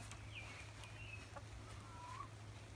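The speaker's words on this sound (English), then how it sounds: "Chickens are so dumb." Chickens in a pen give a few faint, soft clucks and squawks over low background hum.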